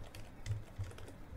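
A handful of soft, close keystrokes on a computer keyboard, quick irregular taps in a quiet room.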